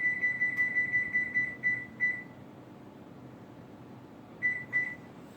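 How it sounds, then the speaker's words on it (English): An oven timer beeping in a small apartment kitchen, a quick run of about ten sharp electronic beeps, then a pause and two more beeps, fairly close over a low steady background hum. "we're going to set the timer"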